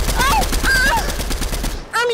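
Rapid gunfire in the video game Fortnite, a dense burst of shots close and loud, mixed with game effects and a voice cutting in near the end.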